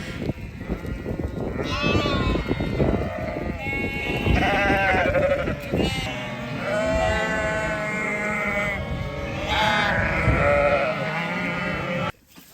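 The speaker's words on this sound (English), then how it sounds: "it's a very noisy affair as they reacquaint ewes and lambs with one another" Many ewes and lambs bleat loudly and continuously as they reunite, overlapping cries of varied pitch rising and falling close by, with a faint voice mixed in.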